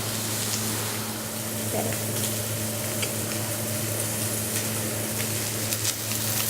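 Chicken breasts fry in a pan for deep frying, giving a steady, dense sizzle with a constant low kitchen hum beneath and occasional small pops.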